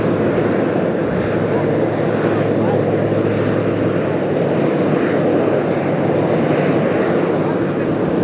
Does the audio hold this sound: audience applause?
no